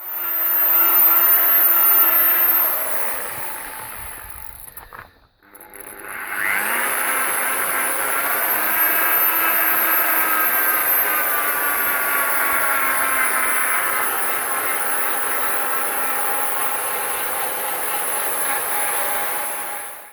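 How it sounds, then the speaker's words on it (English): A powered polishing tool working Mothers polish over a car headlight lens with side-to-side strokes, a loud, steady motor whine with shifting pitch that briefly drops out for a moment before resuming, with no talk. "The side-to-side action while polishing around the headlight ensures an even polish and no overheating"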